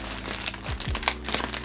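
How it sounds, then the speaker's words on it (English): A plastic package of ordered car supplies is opened up close, with quick crinkling and crumpling of packaging in short bursts, loud and near with no talk. "So I will be opening up this package."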